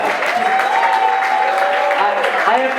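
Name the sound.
crowd applause for Marie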